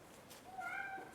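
A pet cat at a window beside an indoor plant repotting setup gives one soft, drawn-out meow, faint and close, with no talking over it.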